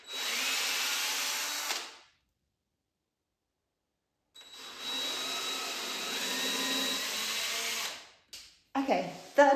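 A power drill fitted with a bigger bit grinds into stone in an old stone house under renovation, with two long, steady, fairly close bursts separated by a pause and then a few short, sputtering pulses.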